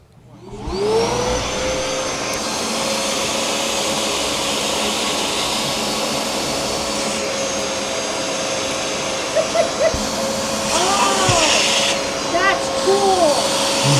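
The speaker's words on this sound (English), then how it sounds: "one thing that's really cool about this particular machine is it comes with an upholstery attachment" A carpet cleaning machine with an upholstery attachment runs with a loud, steady vacuum-like whine and roar, and some scraping and clunking comes from the tool moving over the fabric.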